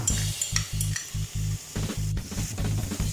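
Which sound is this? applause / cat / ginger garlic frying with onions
ginger garlic frying with onions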